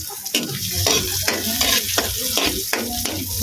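Garlic sizzles in a hot pan for Chinese-style adobong pusit, a close, steady frying hiss broken by rhythmic stirring scrapes about every half second.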